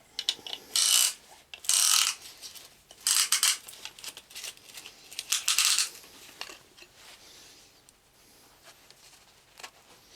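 Ratchet tightening bolts during engine reassembly, with several short bursts of quick metallic clicking close by, then quieter tapping and handling noises.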